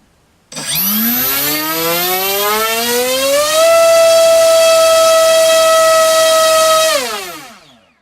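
A Warhead 3545 1850KV brushless motor on 4 cells spins a TGS 7x5 electric propeller, rising from a low whine into a loud, steady high-pitched siren-like howl, holding for several seconds, then winding down sharply.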